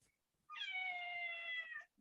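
Cat giving a single drawn-out meow, clear and close, about a second and a half long in an otherwise quiet room.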